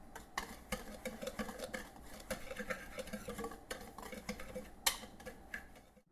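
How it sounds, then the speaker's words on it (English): A whisk working through dry cornbread ingredients, flour and baking powder among them, in a bowl, heard as quiet, rapid ticking and scraping strokes against the bowl in an uneven rhythm. "grab yourself a whisk and whisk this all together"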